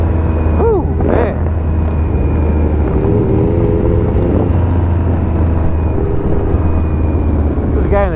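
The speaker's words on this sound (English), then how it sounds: "This guy in the trike just having fun." A motor trike rides past during a memorial motorcycle ride, its loud engine drone filling the scene, with a rising and falling sweep as it passes and a steady rumble of other engines underneath.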